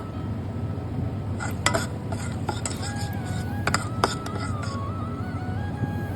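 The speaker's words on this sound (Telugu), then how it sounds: "కలుపుతూ ఉండాలి మధ్య మధ్యలో లేకపోతే అడుగు పట్టేస్తుంది" Jaggery melts with water in a pan while a spoon stirs it, giving scattered metallic clinks and scrapes over a low background murmur. A faint voice is present at times.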